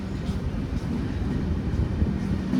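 The Kozhikode Jan Shatabdi Express with new LHB coaches runs along the line, heard from on board as a steady, fairly loud low rumble and rattle, with faint talking in the background.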